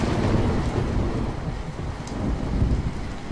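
A cartoon sound effect of heavy rain and rolling thunder inside a hut in the morning: a dense, constant roar of downpour with deep rumbles swelling underneath, with no voices.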